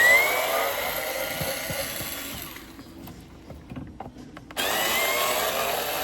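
A power screwdriver whines steadily while backing out the two Phillips screws on a Vauxhall Mokka 1.4 air filter housing, pausing briefly mid-clip before the close, loud whir resumes.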